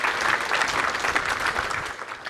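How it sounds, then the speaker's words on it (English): An audience at a Rackspace tech talk on OpenStack and Neutron applauds a guest, a steady wash of many hands clapping that holds throughout at fairly close range. "Another round of applause, please, for Jim Tricarico."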